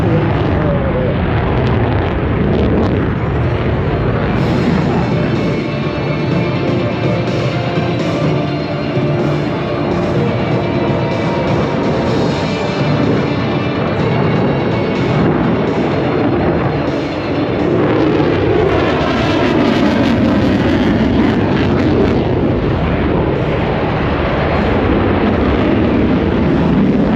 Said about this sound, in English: Listen to that sound of that engine,